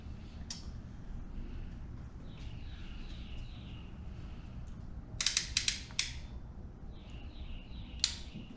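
A ratcheting crimper clicks as it crimps a wire connector during a Honda door jamb wiring job, giving a short burst of sharp ratchet clicks midway and a single click near the end over a low steady hum.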